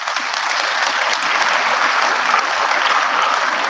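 A crowd claps for students at a college wellbeing session, a dense, even wash of applause that holds steady and loud throughout.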